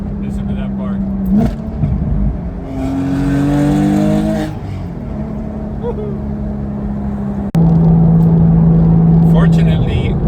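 A Porsche Boxster S fitted with headers drives along, its exhaust droning steadily before a loud acceleration burst with rising pitch, then settling back to a cruising hum, heard from the cabin.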